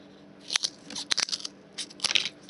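Scissors snipping through cardstock to cut off a piece while building a boat model in a jar, several quick close crunchy cuts in short bursts, alone without talk.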